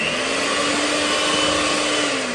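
An electric mixer beats cinnamon pie batter, giving a loud, steady whirring hum with a faint rising pitch and no speech over it.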